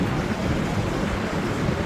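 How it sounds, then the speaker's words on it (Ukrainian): Ocean waves collide and break into white foam at a rocky California surf spot, giving a steady, dense wash of surf with wind buffeting close to the microphone and no clear pauses. "в цьому місці хвилі постійно стикаються, набігають одна на одну і так далі"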